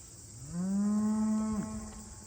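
A Black Angus cow on a farm lets out a single long, loud moo that rises, holds steady and then breaks off, close by with no talking.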